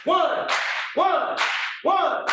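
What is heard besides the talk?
single hand claps of an African unity clap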